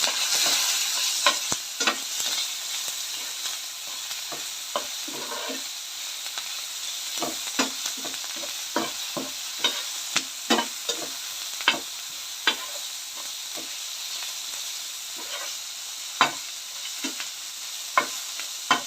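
Onions with salt and curry leaves sizzle steadily in a pan, with sharp, irregular scrapes and knocks of a spoon stirring them through the frying, all close and without talk.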